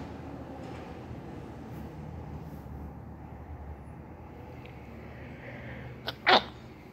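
A single sharp human sneeze bursts out near the end, loud and close, over a steady low rumble of background noise in a store.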